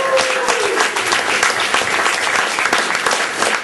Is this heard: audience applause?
yes